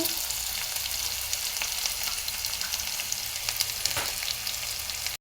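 Onion, green chili and curry leaves fry in hot oil with a steady, dense sizzle close by, broken by a few faint clinks of stirring, with no one speaking.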